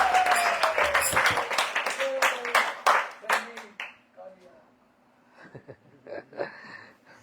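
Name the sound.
audience clapping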